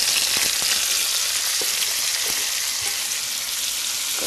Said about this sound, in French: Donc on va réaliser la cuisson de nos poivrons.